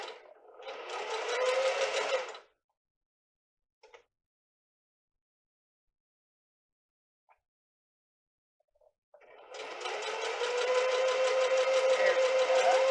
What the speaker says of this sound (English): It's a vintage anniversary edition of a Singer sewing machine.